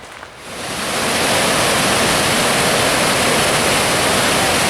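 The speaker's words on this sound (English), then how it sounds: "There's a waterfall back here. I can hear it." A small waterfall on a forest foot trail in Porcupine Mountains State Park gives a continuous, loud rushing hiss. The roar swells in over the first second, then holds steady and dense.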